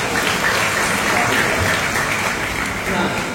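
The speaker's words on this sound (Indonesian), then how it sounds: "ini tepuk tangan buat mereka." Audience applause for the authors of a book at a Makanya Mikir event, a loud, continuous wash of clapping from many people, with voices mingled in.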